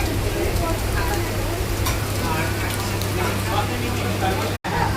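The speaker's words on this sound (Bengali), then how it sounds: "দেখছো বন্ধুরা কি বৃষ্টি হচ্ছে" Heavy rain pours at Ranaghat railway station as a train pulls out, a steady, dense hiss filling the whole clip with a brief cut near the end.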